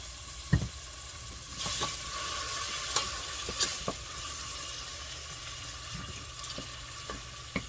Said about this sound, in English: I am adding the minced garlic, just a little bit, to the pan.